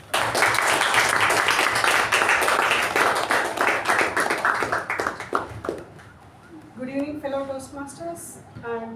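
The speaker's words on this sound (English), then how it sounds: "With a thunderous round of applause, please give it up" A Toastmasters meeting audience applauds the Master of Ceremonies with loud, dense clapping that tapers off over several seconds, after which a person begins speaking.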